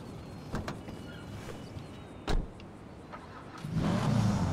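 In GTA 5 Online, someone climbs into a Karin Sultan Classic: a few soft door and body thumps, a louder knock midway, then the engine starts and idles with a steady low rumble.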